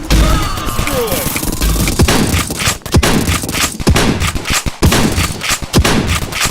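Rapid shotgun and gun blasts in the multiplayer video game Dude Theft Wars, loud, close, repeated heavy thumping shots in quick irregular bursts with game sounds between.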